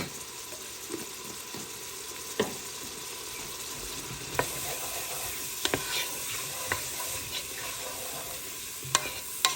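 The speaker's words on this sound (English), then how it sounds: "I'm going to add a pretty good size of garlic" Garlic stirred into a pot of goulash, a steady frying sizzle under scattered clicks and scrapes of the spoon against the pot, with no talking.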